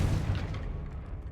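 A Confringo fire spell bursts in Hogwarts Legacy with one deep, rumbling boom that fades over about a second, heard alone.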